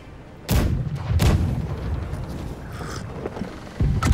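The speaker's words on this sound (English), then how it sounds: "Right side, we're going to be firing on the galleon whilst we're closing in on the junk" Ship cannons in the Blackwake naval battle game fire a broadside at a galleon, heard as heavy booming blasts, two near the start and another near the end, over a dense rumbling battle backdrop.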